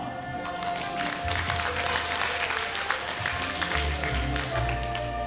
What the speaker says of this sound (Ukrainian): проте все одно всі аплодують